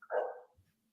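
A dog gives a single short bark indoors, fairly close and moderately loud, followed by a faint low grunt and then quiet.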